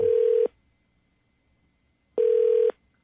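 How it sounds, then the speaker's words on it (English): Two bursts of telephone ringback tone, each about half a second, separated by a pause of nearly two seconds, clear and alone. "Okay, it's ringing."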